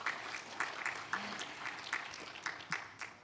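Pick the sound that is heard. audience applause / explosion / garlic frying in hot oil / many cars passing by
audience applause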